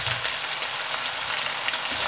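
Boneless chicken pieces fry for achari karahi in a pan, giving a steady, close sizzle with faint bubbling and crackle throughout, no voices.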